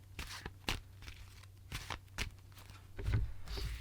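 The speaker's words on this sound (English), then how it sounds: "I'll give them a shuffle." Tarot cards being shuffled by hand, a series of quick riffling and slapping bursts close up, separated by short pauses, with a low thump near the end.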